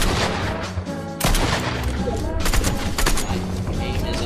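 Bursts of gunfire in the video game Fortnite, loud repeated shots in quick, rattling volleys with brief gaps, while someone talks over the action.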